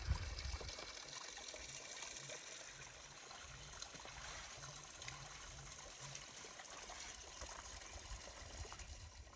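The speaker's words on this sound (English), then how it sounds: "Look at this beautiful spring that comes right out of a tree" Spring water trickles steadily from a tree trunk along a Yosemite backpacking trail near Tuolumne Meadows, a faint, continuous gentle flow with no voices.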